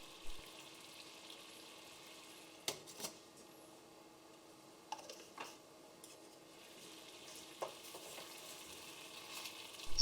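Lobster coconut curry with Bengali garam masala sizzles softly in a pan on the stove, a continuous quiet frying hiss broken by a few scraping clinks as it is stirred.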